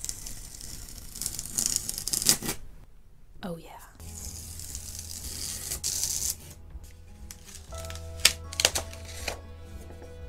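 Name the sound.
masking tape peeled off a gouache painting on paper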